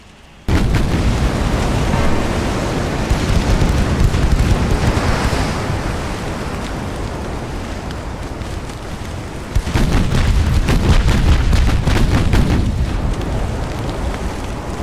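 Naval gunfire from ships in the Ultimate Admiral Dreadnoughts game, a US fleet in a 1920 battle, with loud rumbling booms and a roaring wash of explosions that swells again partway through.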